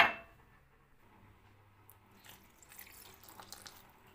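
Tap water runs into a pot in a home kitchen, a steady splashing and trickling stream after a brief louder gush at the start, close and alone.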